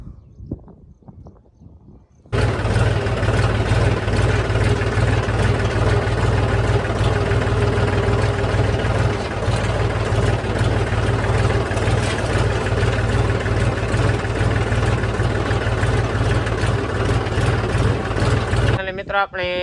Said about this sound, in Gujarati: તો ચાલો આપણે પણ હવે ટ્રેક્ટર લઈને નીકળીએ ઘર બાજુ.